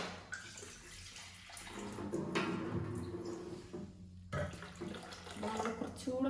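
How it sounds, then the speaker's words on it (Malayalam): Water poured into appam batter, a steady close running and splashing flow throughout, with a short break partway, fairly loud and alone. "നമ്മൾ കുറച്ചുകൂടെ വെള്ളം വെച്ച് കൊടുത്തിട്ടുണ്ട്."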